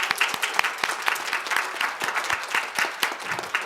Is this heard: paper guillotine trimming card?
no